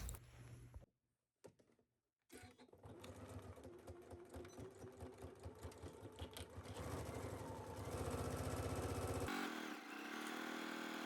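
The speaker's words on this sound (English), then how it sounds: "Sew this down at your machine at 5/8." A sewing machine stitches fabric pieces together at a 5/8 seam, with a couple of short starts and pauses, then a long run of rapid, even needle clatter that speeds up and holds steady, close and clear.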